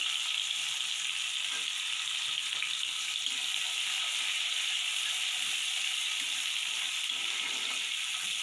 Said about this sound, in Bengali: পেঁয়াজটা একটু হালকা ভেজে নিতে হবে